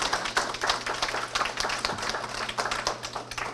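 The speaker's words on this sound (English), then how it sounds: "Let's give them a round of applause." Applause honoring military veterans standing at a morning gathering, with a brisk, fairly close wash of many hands clapping continuously over a low steady hum.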